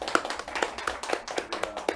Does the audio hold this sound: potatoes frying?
no